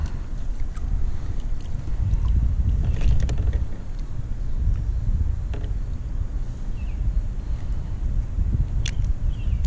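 A kayak paddled through water on a fishing outing, with soft repeated splashes and strokes over a low rumble of wind and water, close to the microphone and no talking.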